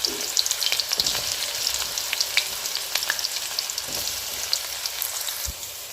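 Onions frying in hot oil at the start of a chicken curry, a continuous bright sizzle and crackle close up, with occasional stirring scrapes and no voices.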